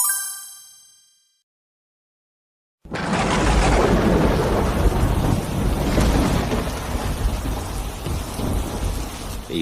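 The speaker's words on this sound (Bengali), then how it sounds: "এই অঝোর ধারার বৃষ্টিতে তো আমার কচু ক্ষেত দেখি তলিয়ে গেল রে বউ।" A ringing chime fades into brief silence, then a heavy downpour suddenly bursts in over a taro field, loud and dense and steady, with a low thunder-like rumble beneath it.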